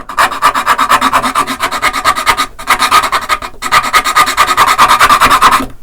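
Hand filing of a part during an acoustic guitar setup: rapid, loud, rhythmic rasping strokes in three bursts with brief pauses, close and alone.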